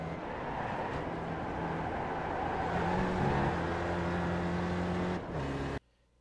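Spec Racer Ford engine in iRacing at VIR North, a steady loud drone that rises slightly, drops as the driver downshifts to third, then cuts out abruptly.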